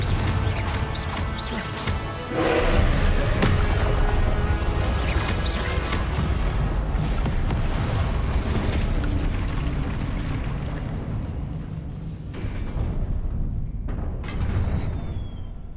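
Confringo explosive spells cast in Hogwarts Legacy: loud booming blasts and crashing impacts, one big burst near the start and others following amid continuous rumbling game sound, close and heavy, fading near the end.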